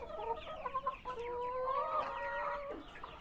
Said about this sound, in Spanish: Ahí están las gallinas.